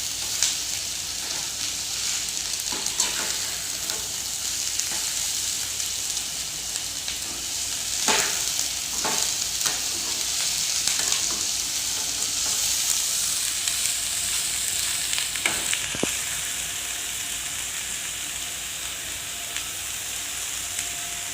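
Capsicum and onion sabzi sizzles steadily in a frying pan, a continuous close frying hiss broken by occasional scraping stirs of the spatula.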